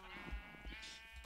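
Short sheep bleat in a blocky building video game, a single wavering call rising out of quiet background game sounds.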